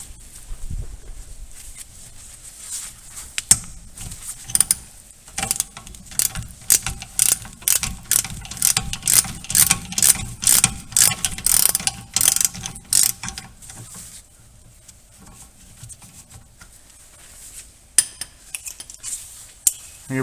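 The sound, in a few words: ratchet with 13mm socket loosening brake caliper bolts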